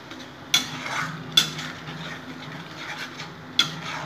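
A spoon stirs poppy seeds and melon seeds into spices in a pan, giving soft scraping and rubbing with three sharper clinks against the pan.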